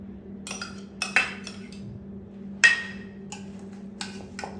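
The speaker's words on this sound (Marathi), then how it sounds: "सो हे असं मिक्स करून घ्यायचं आहे" A spoon stirring curd into mushroom masala in a metal pan, a handful of sharp clinks against the pan's rim spaced irregularly over a low steady hum, close and clear, without talking.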